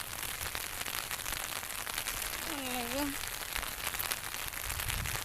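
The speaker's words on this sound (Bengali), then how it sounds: "শুধু বৃষ্টি পড়তেছে" Steady rain falls in a continuous broadband hiss, with a brief rising tonal call near the middle and no clear voices.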